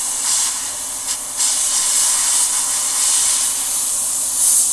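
Airbrush or spray gun misting paint onto a tabletop miniature, a steady high-pitched hiss with brief surges where the trigger is eased, continuous and close with no talking.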